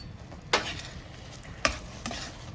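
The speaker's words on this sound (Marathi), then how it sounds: "आणि परत थोडंसं परतायचं" Masala sautéed with fresh coriander in a pan, mutton dish: a steady low sizzle with two sharp spatula scrapes and stirs standing out, close and alone without talk.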